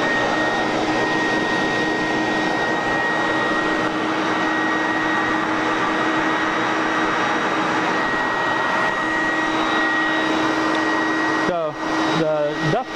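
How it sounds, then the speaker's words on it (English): Dust collector running during a CNC cut, a loud steady whooshing roar with a constant tonal whine throughout, near and unbroken, with a brief burst of shifting tones near the end. "The dust collector is kind of loud, but the spindle itself is really quiet."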